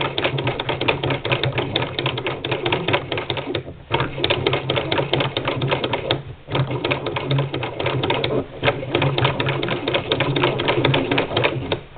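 Singer Model 20 toy sewing machine stitching fabric for 12-inch blocks, a steady fast mechanical clatter running for long stretches with two brief pauses, close and loud with no talking.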